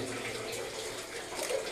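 Water in an old mine tunnel, a faint steady wash and trickle heard close by throughout, with no talk.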